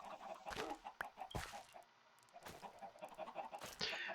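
Chickens clucking in the Minecraft video game, a series of short clucks and squawks at varying loudness over a faint game background, with no talk.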